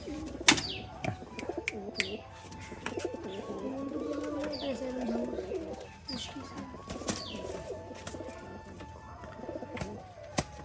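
Pigeons coo in low, rolling murmurs nearby, with occasional sharp chirps and clicks scattered over the soft burbling; green-coloured fancy pigeons.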